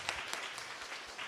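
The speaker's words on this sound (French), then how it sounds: "Je vous demande de donner une dernière main d'applaudissement à toutes nos présentatrices." An audience at a scientific congress applauds the presenters, a faint, brief patter of scattered clapping heard from a distance in the hall.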